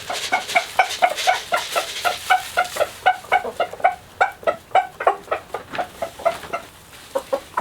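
Roosters make rapid, rhythmic clucking calls to hens over food, a steady run of short repeated notes, close and loud with no talking.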